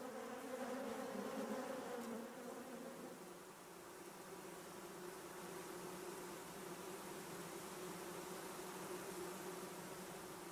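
Honeybees buzzing inside a colony, a steady, even drone of many wings that holds at a moderate, soft level without pause, with no voices.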